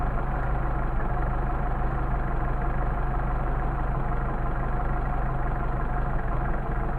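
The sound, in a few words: Mercedes 190SL engine idling, Solex carburetors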